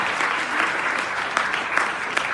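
A graduation ceremony audience applauds award recipients with sustained, even clapping and a few sharper individual claps standing out near the end.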